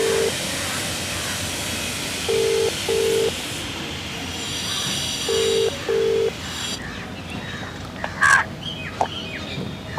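A telephone call rings out over speakerphone as two pairs of buzzing ring tones, each short burst evenly spaced, heard over steady, noisy background hiss with a few faint clatters near the end.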